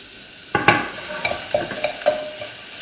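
Green chilies tipped into tomatoes frying in a pan and stirred, giving a soft sizzle under several clinking, scraping strokes of a spoon against the pan.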